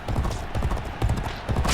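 Horse hooves gallop in a rapid, rolling clip-clop rhythm during a horse race in the video game G1 Jockey 4. The drumming is close and loud over steady background noise.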